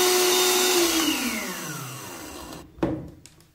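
A kitchen blender mixes creamy paçoca dessert batter of ground peanut candy, a loud steady whir that winds down in pitch as the motor slows and stops, followed by a few clunks.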